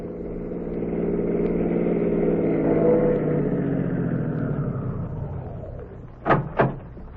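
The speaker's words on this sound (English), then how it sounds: "2 city cars pulled up in front of the rooming house at 8722 2nd Avenue" Two city cars pulling up in front of a rooming house as a radio drama effect, a long engine rumble that builds and fades, then two sharp car door slams close together at the end.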